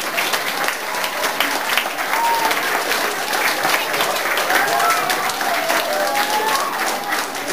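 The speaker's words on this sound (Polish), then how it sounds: "Brawa jeszcze raz dla uczniów." An audience applauds school students after a performance, loud continuous clapping from a sizeable crowd, with faint voices and a few calls rising through it.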